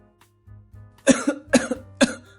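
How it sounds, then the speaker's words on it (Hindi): A man coughs loudly three times in quick, harsh bursts, close up, after a brief low rumble. "सामने बैठा आदमी जोर जोर से खांसने लगता है"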